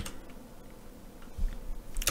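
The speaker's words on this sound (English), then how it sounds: "Bool, why am I typing bool?" Soft typing on a computer keyboard, a few scattered light key clicks with a slightly louder burst near the end, faint and close.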